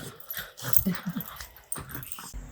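A dog whimpers and yips in quick, uneven bursts, nearby and fairly steady, with a faint growly edge now and then.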